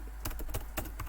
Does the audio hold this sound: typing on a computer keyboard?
yes